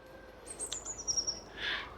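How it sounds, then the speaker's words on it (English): Bright, high robin chirps and whistled notes come in short bursts, fairly faint against a quiet, snowy cemetery background. "You can hear the birds singing, nice little robin somewhere."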